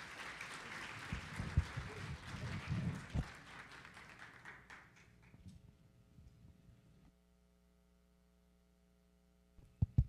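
An audience at a national ceremony honouring outstanding teachers applauds to welcome a university rector, with hearty clapping that tapers away over about five seconds into a quiet room hum and a couple of faint taps.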